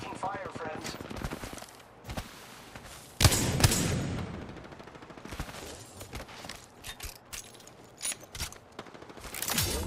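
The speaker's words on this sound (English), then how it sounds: "I am taking fire, friend." Gunfire in the video game Apex Legends, with rapid automatic bursts and sharp shots over game sounds, while a player talks at times.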